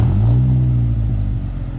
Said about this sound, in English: Tim, start the car and just give it a little gas, but with the in neutral, please